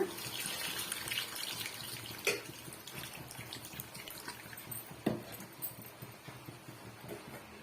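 Soaked tamarind water being strained into a fish gravy, a steady close trickle and splash of liquid with a couple of sharper clanks from the strainer or vessel, no talk.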